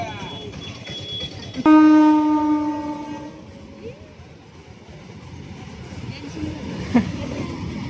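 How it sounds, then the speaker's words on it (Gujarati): A train arriving at a village fair, a loud horn blast sounding partway through over a steady rumble and wheel clatter, with crowd noise and voices around it. "રેલગાડી આવી ગઈ હો આજે તો"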